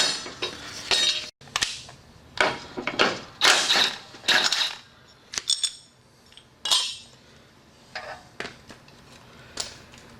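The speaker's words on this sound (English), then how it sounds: "We're going to take the blade off." Faint metallic clinks, taps and scrapes come from removing the blade off a zero-turn mower deck spindle with worn-out bearings, in irregular short bursts separated by quiet gaps.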